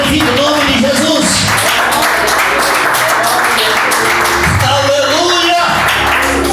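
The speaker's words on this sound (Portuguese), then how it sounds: "Dá uma salva de palmas, bate palmas" A church congregation claps hands in praise, dense continuous clapping mixed with loud singing and voices filling the room.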